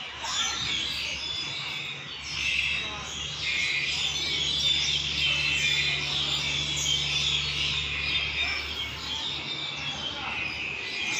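Many birds in a park chirp and twitter together in a dense, continuous chorus, fairly loud and close, with a low steady hum underneath.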